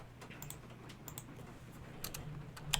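Quick, light keystrokes patter on a computer keyboard as a prompt is typed, coming in short bursts with brief pauses, fairly quiet and close, with no voices.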